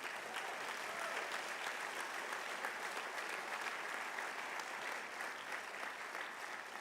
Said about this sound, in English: Let's give all our honorees another round of applause.